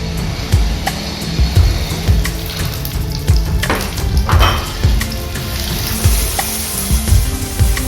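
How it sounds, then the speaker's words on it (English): Small South Indian shallots fry in hot oil for a brinjal curry, a close, steady sizzle and crackle with occasional stirring clinks and scrapes. "So the shallots are cooking nicely in the oil"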